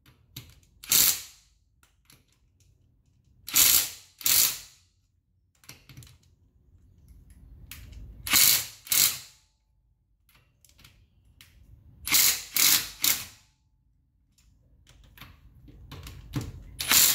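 A ratchet loosens car wheel lug nuts in several short bursts of rapid clicking, separated by quiet pauses, fairly close and crisp, with no speech.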